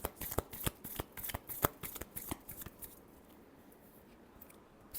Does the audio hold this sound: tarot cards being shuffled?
yes